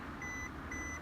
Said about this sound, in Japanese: 今鍵刺さってるんでピーピー言うてますけど